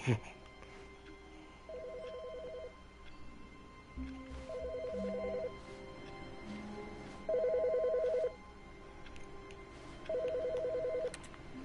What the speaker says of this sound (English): Which phone is ringing?